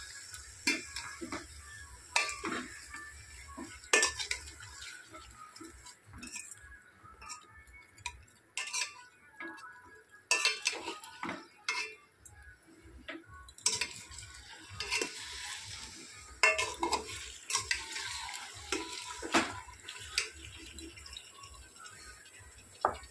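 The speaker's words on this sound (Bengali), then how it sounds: "এবার ভালোভাবে মাংসটাকে নেড়ে চেড়ে নেব।" Chicken pieces being stirred in a pot for handi chicken, a spoon scraping and clinking against the metal in repeated strokes over a low sizzle, close and alone with no talking.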